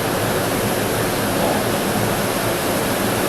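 Loud, rushing white water roars continuously close by, a dense unbroken wash of noise with no voices.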